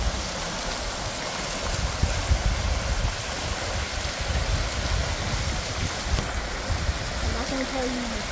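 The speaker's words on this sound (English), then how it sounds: "The rushing creek down there." A rushing mountain creek below a backpacking trail on Mt Holmes, a steady dense roar of flowing water mixed with wind, loud and unbroken throughout.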